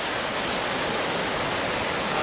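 Ocean surf off the coast of the Gambia rolls in as a steady, loud, broadband roar of breaking waves, continuous and unbroken with no voices over it.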